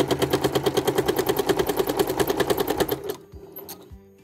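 A sewing machine quilting a quilt, running in a fast, steady needle rhythm, close and clear, then stopping abruptly with a few faint clicks afterward.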